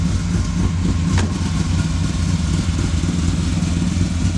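A 1955 Chevy Bel Air with a 502 big-block V8 idles with a steady, deep, throbbing rumble. The engine is close and loud, and a single sharp click sounds partway through. Nobody speaks.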